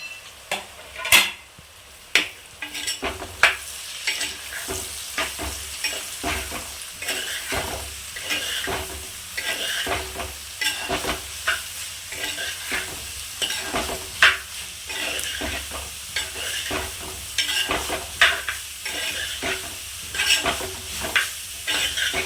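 Onions sautéing in a pan for Kerala chicken curry, a constant low sizzle broken by repeated spoon-scraping stirs and clanks against the pan, close by and free of speech.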